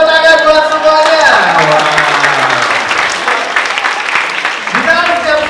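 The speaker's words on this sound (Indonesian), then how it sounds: "kasih tepuk tangan buat semuanya" An audience at a student motivational training seminar breaks into loud, dense applause that swells and then tapers, while a presenter keeps speaking over it.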